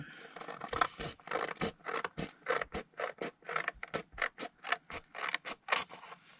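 Scissors cut through a paper folio tab in a rapid series of crisp, close snips and rustles, steady in rhythm and moderately quiet.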